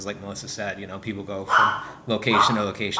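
A tiny four-pound dog gives a couple of short, sharp yips indoors, partly buried under steady conversation between people talking nearby.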